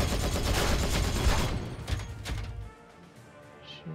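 Rapid bursts of gunfire from the Warhammer 40K Regicide video game crackle densely for a couple of seconds, then a few scattered shots fade out into quiet.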